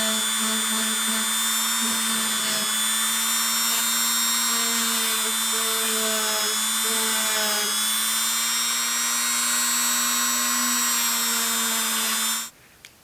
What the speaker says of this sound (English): my answer is a Dremel with a little wire wheel